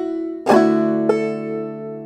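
A clawhammer banjo plays one close, bright note, then a second pluck follows as the note slides up the 2nd string, and the tone rings on with no voice.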